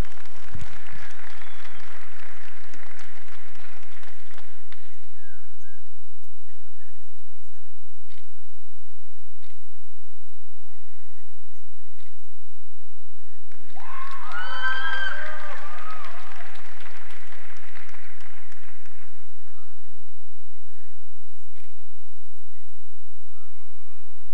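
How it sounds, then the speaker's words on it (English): Two bursts of audience applause at a Milking Shorthorn cattle show, filling a livestock arena: a first round fades out, and after a pause a second swell rises and dies away, with a voice and stray animal sounds around it. "let's give him a round of applause"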